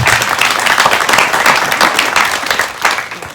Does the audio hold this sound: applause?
yes